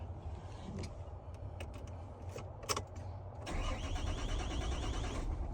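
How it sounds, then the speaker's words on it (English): A 2020 Hino 268 truck engine cranks briefly and catches, settling into a steady, close diesel idle that fills the rest of the recording without any talking. "I just came back with another part just to show y'all that the vehicle is running"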